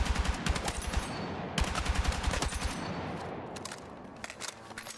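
L85 rifle firing in Battlefield 6, loud rapid bursts of automatic gunfire in quick repeated volleys, easing off into a quieter tail near the end.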